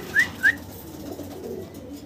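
A male Shouking pigeon gives two short, clear whistling coos in quick succession, close and distinct, followed by a faint low rustle and murmur of background noise.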